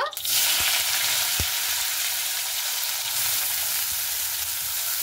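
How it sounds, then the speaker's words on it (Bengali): Potatoes frying in oil in a wok (kadai) while chow mein is made: a loud, dense sizzle bursts in almost at once and holds steady, with a few soft low knocks underneath. "তো আলুগুলোকে খুব ভালো মতো করে ভেজে নেব"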